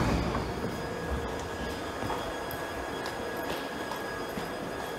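A second-generation Birmingham-built Glasgow Subway train runs steadily on board, its broadband rumble and wheel noise constant through the carriage with faint steady tones above, no voices.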